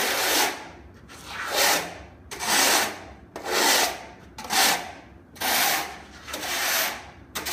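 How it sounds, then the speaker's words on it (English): A foot scraper scrapes leftover plaster off a floor during scratch-coat plastering: seven or so rough, rhythmic strokes, close and loud, each about half a second long. "with a foot scraper, okay, scrape the bottom of the floor."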